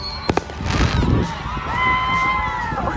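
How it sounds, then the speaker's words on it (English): Fireworks at a high school football game in a small Texas town: two sharp close bangs followed by a crackling burst and rising whistles, over crowd hubbub. "We've got fireworks."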